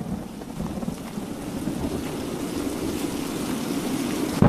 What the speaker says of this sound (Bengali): এই ঝড় বৃষ্টিতে যদি আমাদের বাড়ি ভেঙে যায়